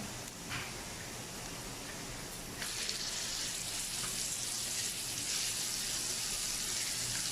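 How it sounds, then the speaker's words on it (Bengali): Steady close sizzle of chicken pieces dropped into oil with almost-fried garlic for a Malaysian-style chicken dish, a broad hiss that swells and grows louder partway through and holds without talk. "রসুন অলমোস্ট ভাজা হয়ে গেছে, আমি এর মধ্যে চিকেনগুলো দিয়ে দিচ্ছি"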